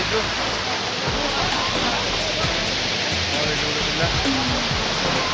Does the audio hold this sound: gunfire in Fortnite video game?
no